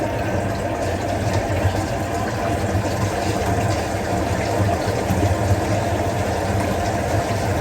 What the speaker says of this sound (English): Now when I turn this water on, we shouldn't have any leak.